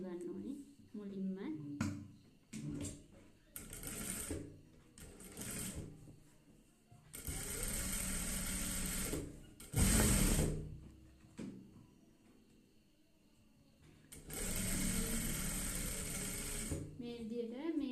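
A sewing machine stitches a long seam in fabric in several bursts, a fast close mechanical whirring and clatter that starts and stops, with handling noises between runs and a woman explaining in Sinhala.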